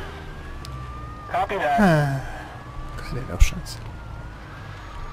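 Police siren in Mafia 2 wailing in rising and falling sweeps against a low engine rumble, with a sharp thump near the end and someone talking over it.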